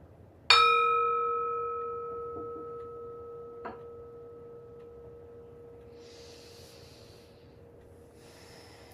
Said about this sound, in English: I'll ring the bell to get us started and to close us.